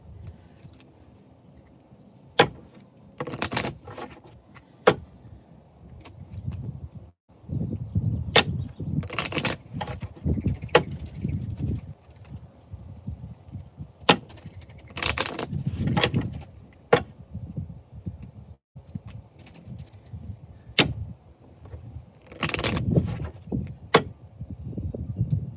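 Lenormand cards are shuffled in scattered bursts of soft riffling and tapping, close and fairly quiet, with pauses in between and no talking.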